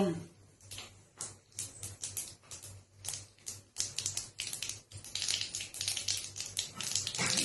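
Tempering seeds crackling and popping in hot oil for a South Indian fry, a dense run of rapid sharp snaps that grows busier, close and prominent, with a voice talking over it.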